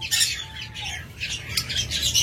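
Harsh squawks from a breeding pair of pet birds ring out in quick repeated bursts close by, with a low background hum underneath and no talking.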